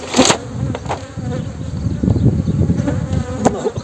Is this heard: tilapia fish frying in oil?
no